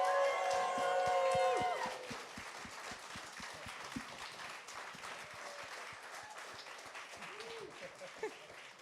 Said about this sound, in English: everyone just cheer like crazy for this